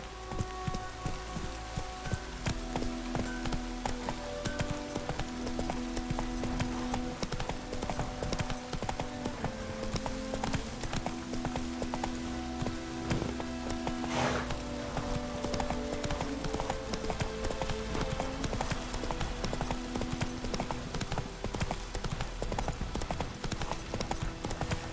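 Roach the horse gallops across terrain in The Witcher 3, a fast, steady clip-clop of hooves continuing throughout with faint game music and ambience underneath.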